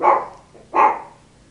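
Two sharp dog barks, close by, a short pause between them, with quiet room tone after.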